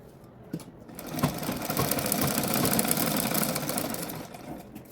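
A sewing machine runs a steady, loud stretch of stitching along a blouse seam, double-stitched half an inch from the margin, starting after a few short taps and running for several seconds before easing off.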